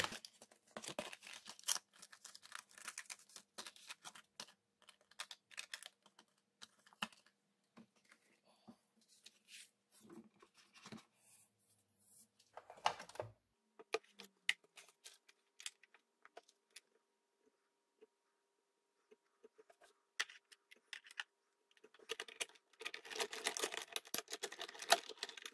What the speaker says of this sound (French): je vais découper cette petite étiquette avec le deuxième poinçon plus petit là